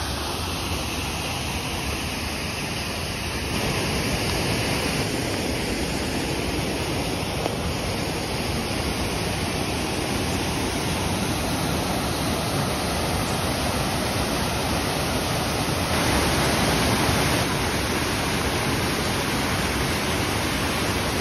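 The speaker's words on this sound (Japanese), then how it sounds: "今度は滝です。" Steady, broadband rush of falling water, constant and full throughout with no voices, like a waterfall heard from fairly close by.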